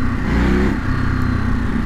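A 2023 Ducati Monster SP motorcycle rolls along in second gear at low speed, its engine a steady, loud, close-up throb with a lumpy low rumble that swells slightly partway through.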